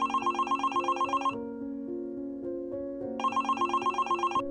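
A phone ringtone plays in repeated bursts of bright electronic tones, pausing briefly before ringing again, clear and close with no talking.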